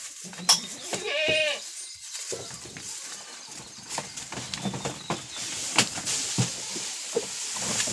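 Two-month-old goat kids give one short, clear bleat near the start, followed by rustling, shuffling and faint knocks.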